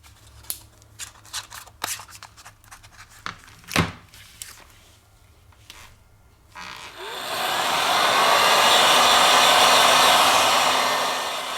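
A heat gun blows hot air across the broken screen of an LG V30 phone during a screen replacement; sharp clicks and taps from handling come first, then a steady loud roaring whoosh rises and holds to the end.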